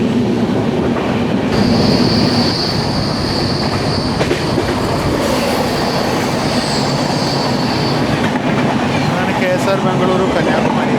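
The Island Express, the Bengaluru–Kanyakumari train, thunders through a crossing very loud and close, with dense rolling wheel noise and a sustained high wheel squeal for much of the pass.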